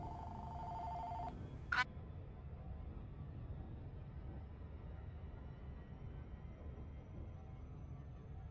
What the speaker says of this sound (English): we have a phone